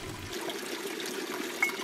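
Water trickles from a village fountain, a soft continuous splashing stream heard faintly and alone, with a brief brighter splash near the end.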